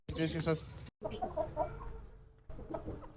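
A rooster clucks up close among chickens in the evening, giving a run of short throaty clucks and a few brief calls in quick bursts, with a short pause partway through.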